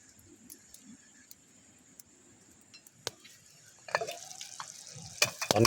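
Meat stir-fried in a pan over a fire for spicy basil pad krapao, made with rat and bird meat: quiet scraping and ticking at first, then louder sizzling and clattering stirs in the last seconds, with no talk.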